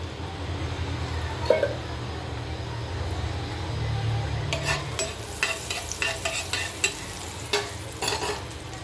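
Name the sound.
marinated chicken frying in butter and oil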